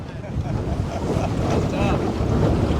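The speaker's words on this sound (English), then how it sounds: "The wind got so strong my anchor wouldn't hold anymore." Strong, gusty wind buffets a fishing boat at anchor on open water, loud rushing blasts and microphone wind noise over sloshing waves, rising and falling throughout.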